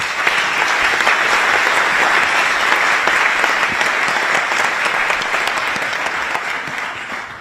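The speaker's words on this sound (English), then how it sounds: "So let us give our panel a very warm round of applause" A conference audience gives a cybersecurity panel at a campus event a sustained round of applause, dense and loud, holding steady before tapering slightly at the end.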